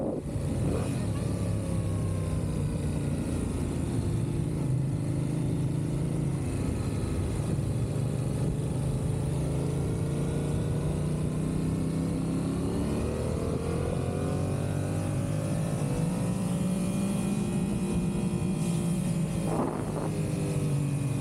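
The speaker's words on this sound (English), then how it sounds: "Just casually rolling on the throttle and having a fun ride to work." A motorcycle cruising on the road with the throttle rolled on, a loud steady engine drone with rising and falling pitch and heavy wind rush throughout.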